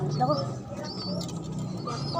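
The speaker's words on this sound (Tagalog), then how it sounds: "Ito po ang mga kalapati namin." Pigeons coo softly near a rooftop loft and trapdoor, with low warbling calls and faint chirps blended under nearby voices talking.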